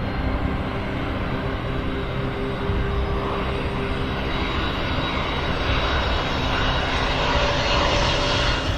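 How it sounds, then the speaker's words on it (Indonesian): A steady, loud aircraft engine roar that swells slightly as a plane takes off, broad and continuous without a break. "Pesawat lepas landas."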